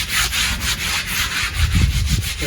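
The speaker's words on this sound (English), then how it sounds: "just give this a bit of a scrub and a hose down again" A pond window is scrubbed by hand with steady back-and-forth rubbing strokes, close and loud, in a rhythmic series with some low sloshing toward the end.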